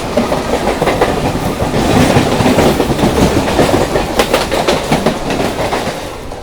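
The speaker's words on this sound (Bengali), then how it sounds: "একটা ট্রেন আসছে মনে হয়" A suburban local train bound for Howrah rolls past nearby near Belur station, loud and continuous, with rhythmic clickety-clack of wheels over the rail joints.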